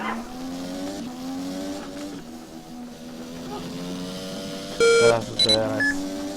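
Short electronic beeps in a racing video game, a burst of tones rising over the steady hum of a car engine, with a voice speaking briefly.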